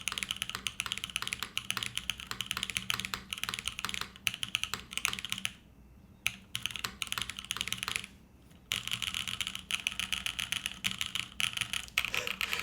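Rapid, steady clacking of keys on a lubed top-mount Austin R3 mechanical keyboard, close and fairly loud, with two short pauses partway through; no voices.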